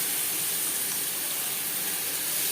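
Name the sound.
onions frying in pan for fish curry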